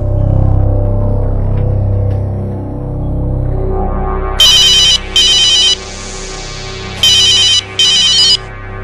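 An electronic phone ringtone rings in repeated bursts, loud and close, after a stretch of low background murmur.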